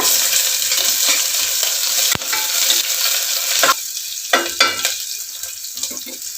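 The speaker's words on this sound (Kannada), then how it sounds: "ಇವಾಗ ಇದಕ್ಕೆ ಈರುಳ್ಳಿ ಹಾಕೊಳ್ಳೋಣ" Onions frying in hot oil in a pan for a chicken masala rice dish, a loud continuous sizzle with occasional stirring scrapes, close up with no talking.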